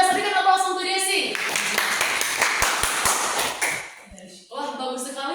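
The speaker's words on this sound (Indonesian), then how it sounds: "Berikan aplaus untuk Desi." A classroom breaks into applause for a student named Desi, a short burst of clapping with a few sharp claps, with a voice speaking before and after it.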